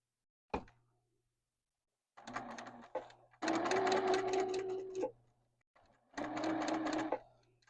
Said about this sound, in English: I'm just going to sew on the folded line that I made, that I marked for sewing on